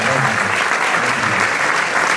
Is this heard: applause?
yes